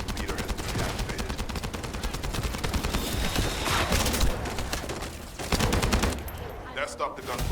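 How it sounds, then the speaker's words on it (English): Gunfire in the video game The First Descendant, rapid automatic bursts and crackling shots stacked densely over loud battle noise, with brief pauses near the end. "That stopped the gunfire."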